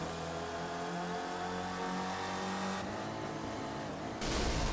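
A Spec Racer Ford's engine in the iRacing simulator revs up hard at the race start at Watkins Glen, a steady droning whine that rises in pitch before shifting near the end, with no talk.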